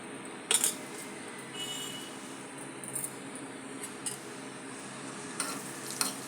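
Ghee tempering of spices with asafoetida for a moong dal rasam: a quiet, continuous sizzle broken by several soft clinks of a stirring spoon against the pan.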